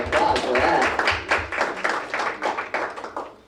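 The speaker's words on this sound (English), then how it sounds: "Come on, give yourselves a round of applause for that." An audience at a congregational business meeting applauds its volunteers with a burst of clapping that thins into scattered, fading claps.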